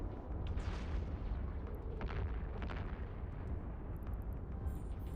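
Missile launchers in the Eve Online video game firing on a target, a rumbling run of deep booms and bursts with a few crackling hits and faint high electronic beeps near the end, no speech.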